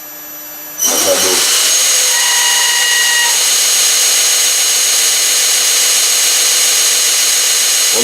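Electric motor driven by a frequency converter starts up with a low thump and then runs with a loud, sustained high-pitched whistle and whine, with brief tonal shifts as the speed changes.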